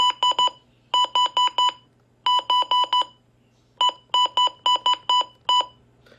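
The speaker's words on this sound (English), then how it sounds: "It also changes the button beeps as well" Repeated bright electronic button beeps from a Midland WR300 weather radio in quick groups of three to four, loud and close, with short pauses between groups and no talking.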